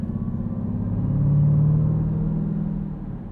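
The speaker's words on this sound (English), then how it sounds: "all the supercharger whine" A 2023 Dodge Durango SRT Hellcat with its supercharged engine swelling under acceleration from inside the cabin, a low rumble building and easing over a few seconds with a faint whine riding on top.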